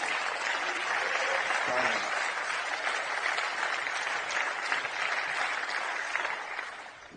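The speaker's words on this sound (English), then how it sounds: "a big round of applause for Emmer Evans" Steady applause fills the room at a darts event at the Frans Otten Stadion in Amsterdam, sustained and even for several seconds before tapering slightly at the end.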